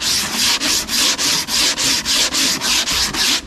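Steady back-and-forth block sanding on a flat dashboard surface, about a dozen even rasping strokes in a regular rhythm, close and clear with no talking.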